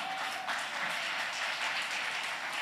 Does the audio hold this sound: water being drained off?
no